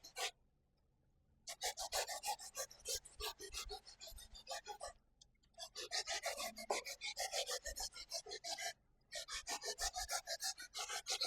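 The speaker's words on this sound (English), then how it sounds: "So now I'm going to grate the yam" Jamaican yellow yam is rubbed by hand against a grater in quick, rhythmic rasping strokes. The strokes come in several runs separated by brief pauses and sound close and clear.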